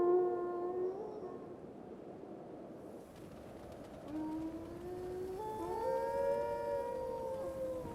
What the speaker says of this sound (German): Die Wölfe sind wegen der Gazellen da.